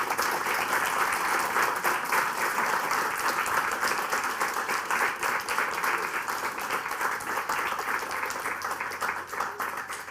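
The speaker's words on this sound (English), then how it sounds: "So big round of applause." Sustained, dense audience applause after a conference session, a steady wash of many hands clapping at an even, fairly loud level for about ten seconds without a break.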